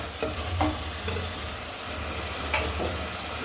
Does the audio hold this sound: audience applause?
no